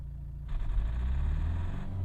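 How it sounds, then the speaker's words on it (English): A Renault Mégane III dCi diesel engine idles with a low, rough rumble during an injector test, then a faint metallic knocking rattle rises over it and holds steady for over a second before fading. "Oh, what a lovely knock."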